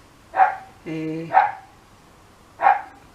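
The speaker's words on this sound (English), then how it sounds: "And Timmy's going to bark." A dog barks three times in sharp, evenly spaced yaps, with a short whining, whimpering tone between the first two barks. The barks are close and fairly loud against a quiet room.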